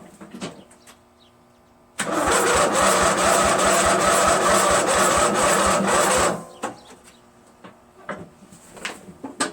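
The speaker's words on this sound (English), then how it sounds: "Let's try engine start mode on this." A Craftsman LT1000 lawn tractor with a Briggs engine is cranked from a charger's engine start mode, giving a loud, rapid, even chugging of the starter for about four seconds without catching, with clicks and handling noises before and after.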